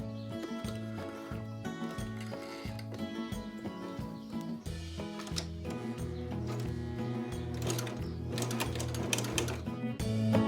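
A domestic sewing machine runs in steady rhythmic bursts while stitching a lapped zipper, its needle chatter pausing and restarting for short back-stitches. The mechanism sounds close and clear, with no talk over it.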